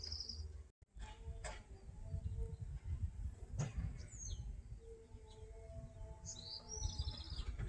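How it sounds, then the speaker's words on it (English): Small high chirping calls of a pygmy nuthatch in a lush, rainy Sedona garden, a few brief twittering notes scattered over steady low background rumble. "I'm going to ask my bird app what bird that is. It's a pygmy nuthatch."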